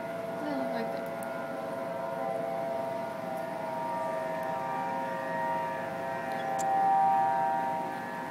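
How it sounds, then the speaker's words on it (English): A tsunami warning siren in Honolulu, Hawaii wails as a steady, sustained tone across the night, carrying from a distance with faint background voices beneath it. "second tsunami siren of the night"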